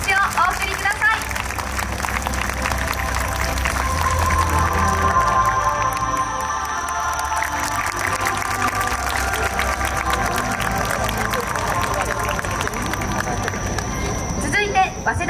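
Applause and crowd noise fill the hall during an award ceremony at a Japanese dance festival finale, steady and loud throughout with cheering and a festive background bed beneath.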